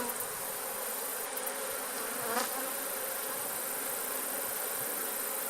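Honeybees crowd the frames of a nuc box during beekeeping, producing a dense, continuous close-up buzz that holds level throughout with no pauses.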